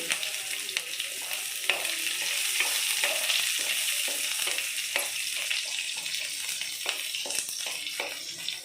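Garlic, onion and dried chili fry in hot oil with a steady close sizzle, broken by scraping stir strokes, with no talk.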